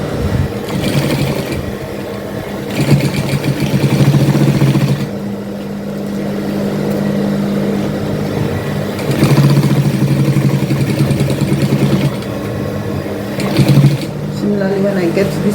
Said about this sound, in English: Then I start sewing. Okay, continue sewing.